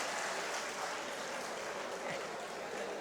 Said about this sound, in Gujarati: એક વખત તાળીઓના ગડગડાટથી વધાવો.